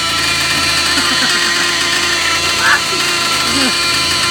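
A Novarossi R.28-7M nitro engine on its first start-up in an RC car runs steadily at close range, a constant high-pitched buzz, with a few faint voices under it.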